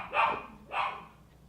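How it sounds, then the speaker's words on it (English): Two sharp barks from a pet dog indoors, about half a second apart, moderately close and fairly quiet, with no talking over them. "Sorry about my dogs."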